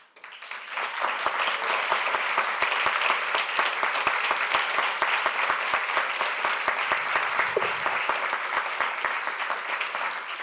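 An audience gives sustained, dense applause for four honored community workers, the clapping continuous and even for about ten seconds with no talk over it.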